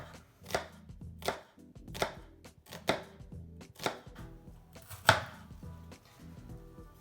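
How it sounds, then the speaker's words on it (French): A knife chops red onions on a board: about half a dozen crisp, close chops at an uneven pace, with one sharper, louder strike near the end. "Et enfin on va ciseler les oignons rouges."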